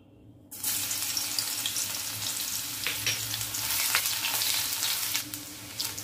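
Garlic dropped into hot vegetable oil over a low flame, a sudden burst into a steady close sizzle with scattered pops, running evenly without any talk.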